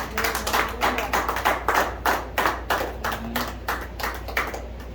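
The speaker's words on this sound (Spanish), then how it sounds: "Fuerte aplauso por el Señor." Applause in a church service: a congregation clapping in a fast, steady rhythm, many hands together in unison, moderately loud and continuous with no talk over it.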